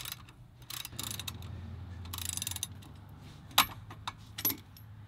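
A stuck lug nut is worked loose on a 1971 Chrysler New Yorker wheel, heard as quiet ratcheting, clicking metal mechanism sounds with a couple of sharper clinks, close by.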